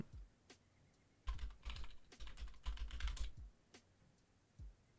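Typing on a computer keyboard: a close, quick burst of key clicks in the middle, framed by a few isolated soft taps before and after, with no voices.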